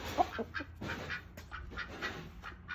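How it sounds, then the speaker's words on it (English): A rooster and chickens cluck softly in short, scattered bursts, a farmyard flock nearby at low volume with no talking. "There's our rooster. He's in charge of the flock."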